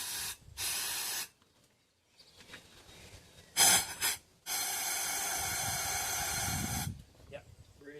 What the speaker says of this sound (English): Let's push out a little bit more with the compressor.